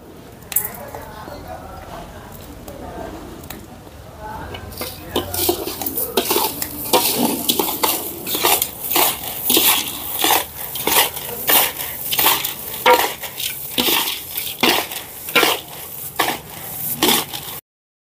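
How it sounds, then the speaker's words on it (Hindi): Dalmot namkeen being tossed and mixed with sprinkled masala, giving a dense run of crunchy rattling and scraping strokes that grows busier and louder after the first few quiet seconds. "ये मसाला इस दाल मोट के ऊपर हम छिड़क देंगे और अच्छे से फिर मिक्स करेंगे"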